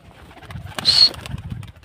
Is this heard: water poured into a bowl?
no